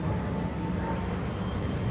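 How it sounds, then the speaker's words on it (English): A P-51D Mustang with a Packard-built Rolls-Royce engine flies at an air show at Joint Base Andrews. Its engine makes a steady, rumbling drone that stays even throughout, with no talking. "A Rolls-Royce engine in there, built by Packard under license during World War II."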